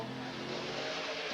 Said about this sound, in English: 26th fastest on his first lap is Carl.